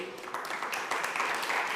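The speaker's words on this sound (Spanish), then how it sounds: "Podéis aplaudir" Audience applause at a panel introduction for an education conference, a short burst of steady clapping from a roomful of people that grows slightly louder and continues throughout.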